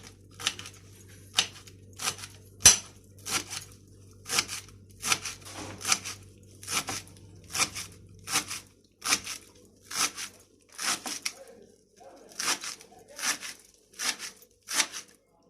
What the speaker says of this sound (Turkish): bağ maydanoz doğrayacağım arkadaşlar.